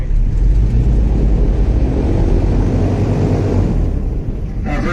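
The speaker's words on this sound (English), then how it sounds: "Chevrolet V8 502 engines I'm sitting next to back here." Everglades airboat with Chevrolet V8 502 engines running, a loud close continuous low engine roar and rumble that stays steady throughout, with no talking over it.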